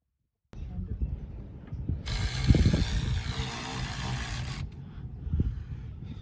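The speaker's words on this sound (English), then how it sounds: "He's just tightening down some bolts, get things pieced back together" Bolts are tightened on a pump during a repair, giving a bright ratcheting whir lasting a couple of seconds amid mechanical clanks and handling noise.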